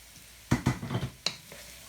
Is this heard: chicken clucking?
no